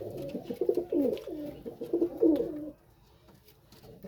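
Royal Teddy pigeon, a pure-bred leg-tagged flying bird, coos in a steady run of low throaty phrases for nearly three seconds, close and clear, then falls quiet.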